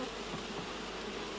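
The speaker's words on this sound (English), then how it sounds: "Almost immediately the buzzing stopped." Flies buzz steadily inside a closed room of an old house, a dense, continuous insect drone that stays close and even throughout with no voices.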